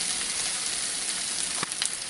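Fresh corn kernels frying in a pan, a steady close sizzle that runs evenly throughout, with a brief scrape or stir near the end.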